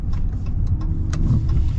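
A Hennessey Mammoth 400 truck's engine and exhaust rumble steadily at a loud, close, low idle-like drone, with a few faint clicks over the top and no speech.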